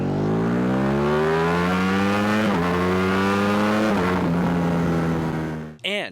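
Ducati Streetfighter V4S motorcycle accelerating hard, a loud, close engine note climbing steadily in pitch through quick gear changes before cutting off, followed by a brief sharp rev.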